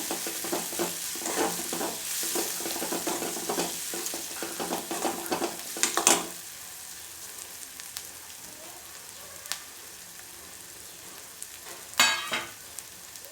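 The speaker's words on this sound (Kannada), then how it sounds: "ಚೆನ್ನಾಗಿ ಬಾಡಿಸಿ" Food sautés and is stirred in a hot pan for a breakfast dish, a busy sizzle with rhythmic scraping strokes, then quieter frying with a couple of sharp clanks near the end.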